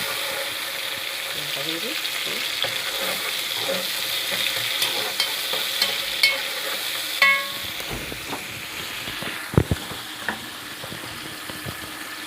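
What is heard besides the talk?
sautéing onion and cinnamon in a pan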